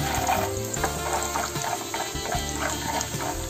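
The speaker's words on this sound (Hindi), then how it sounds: "अभी इसी तेल में हम लोग मूंगफली को फ्राई कर लेंगे।" Peanuts fry in hot oil, giving a steady dense sizzle with bubbling crackle and light stirring scrapes, close and even for a few seconds, with no talking.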